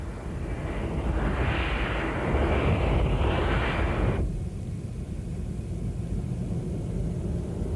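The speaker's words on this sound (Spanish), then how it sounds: "Estos son los aviones nodriza." A loud, low tanker aircraft engine roar swells for about four seconds, then drops back to a steady, duller rumble.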